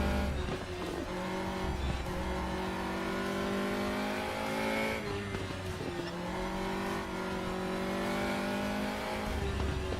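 Race car engine in the RaceRoom racing game, climbing through the revs with repeated upshifts and short drops between gears, a loud continuous whine with faint tire squeal.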